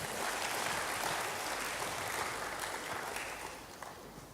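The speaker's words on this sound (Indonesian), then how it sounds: "Berikan tepuk tangan bagi Tuhan." A large church congregation claps continuously, a dense even wash of applause that holds steady and tapers slightly at the end, with no talking.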